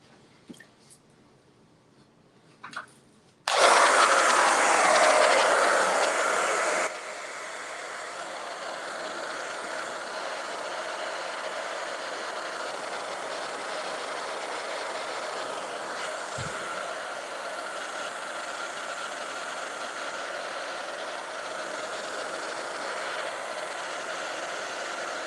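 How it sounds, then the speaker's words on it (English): A hair dryer blows on a paint finish on outdoor furniture. After a quiet start, it switches on loud and close, then drops to a steadier, softer whoosh that runs on alone. "And get my hair dryer."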